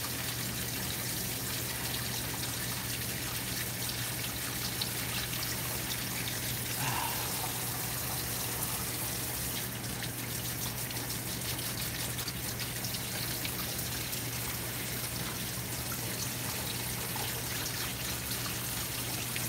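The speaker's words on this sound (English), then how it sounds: "That water keeps going down the drain." Water runs steadily down a drain in a noisy work setting, a constant wash of trickling and gurgling with a steady low hum underneath, unbroken across the whole stretch and with no voices.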